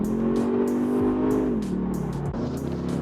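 A Kia Stinger 2.5-litre turbo four-cylinder engine pulls hard under acceleration, its steady drone climbing and shifting pitch, with a brief dip partway through as if changing gear.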